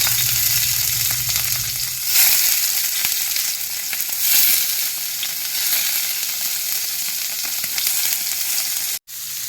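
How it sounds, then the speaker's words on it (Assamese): Paneer pieces frying in hot oil in a pan, a loud steady hissing sizzle throughout with occasional bursts of crackle as the cubes are stirred. "এতিয়া তেল গৰম হৈ গ'ল, পনীৰখিনি ফ্ৰাই কৰি ল'ম।"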